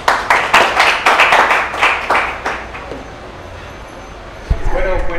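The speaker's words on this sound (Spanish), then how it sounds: "un aplauso para vos" A small evening audience claps in a lively, dense burst that tapers off after about two and a half seconds, followed by quieter room sound and then a voice beginning to speak.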